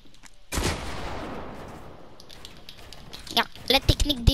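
Gunfire in a Battlefield match: a sudden loud burst of shots, then a rattling spray of rounds, then several sharp closer cracks toward the end, with voices talking over parts of it.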